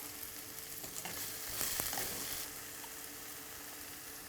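Onions fry with a pinch of salt in a pan for a Kerala fish curry, giving a soft, continuous sizzle and crackle that swells briefly in the middle, heard close and alone with no voices.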